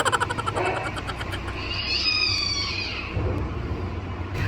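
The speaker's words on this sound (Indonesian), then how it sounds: "Ternyata itu kucing lagi berantem ya" Two cats yowl and wail at each other in drawn-out, rising and falling cries, with a brief harsh screech in the middle, fairly close.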